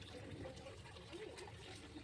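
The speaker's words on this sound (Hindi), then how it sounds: "चलिए पानी भरते हैं" Tap water runs into a container at home, a quiet continuous trickle and pour heard from close by, faint and steady, with no talking.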